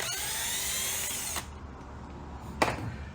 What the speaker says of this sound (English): I'm going to go ahead and drill one of those in and out